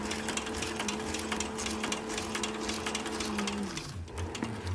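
Sewing machine stitching thick leather layers on a short brim cap, a close, loud, fast rhythmic needle chatter that runs steadily and then winds down as the motor slows near the end.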